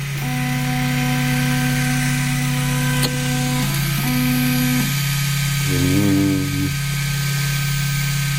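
A 3D printer runs with loud, constant mechanical whirring and a droning fan hum, while motor whines rise and fall in pitch in short bursts.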